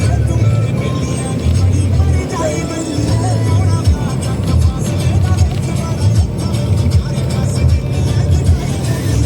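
A car driven along a mountain road near Leh in worsening weather hums with a steady, close engine and road rumble, swelling now and then with acceleration.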